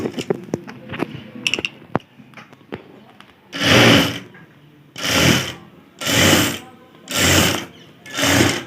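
An electric sewing machine stitches a blouse in five loud, even bursts of whirring, each about half a second long, after a stretch of scattered clicks and handling of fabric.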